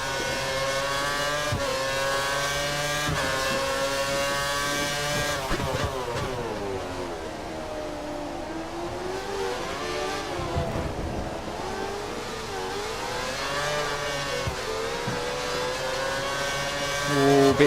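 A Formula 1 car engine in F1 2013 at Shanghai, a loud, close, high-pitched whine that drops through several downshifts, sweeps up and down between gears, and then climbs again as it accelerates.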